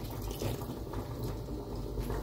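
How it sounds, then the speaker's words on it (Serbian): Water is poured into a pan of golden fried onions and sauce for schnitzel in sauce, a soft continuous trickling and splashing, faint and close, with no talk. "Dodajte ovdje još malo vode"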